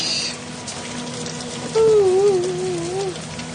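Steady rain falls in an even hiss throughout, and a voice briefly sounds a drawn-out, wavering tone over it partway through.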